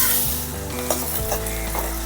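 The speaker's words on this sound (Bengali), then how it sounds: "জিরেটা একটু ভাজা হতে দিয়ে দিচ্ছি পেঁয়াজ কুচি" Chopped onion hitting hot oil with cumin seeds in a pan for a mutton-fat pea ghugni sets off a loud, close sizzle, with a spatula stirring and scraping through it in a steady rhythm.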